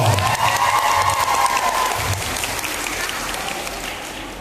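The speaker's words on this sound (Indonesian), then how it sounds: "Tepuk tangan dong." An audience at an education festival in Palembang breaks into loud applause and cheering, a dense crowd roar that holds steady and fades slightly toward the end, with a faint voice in the first seconds.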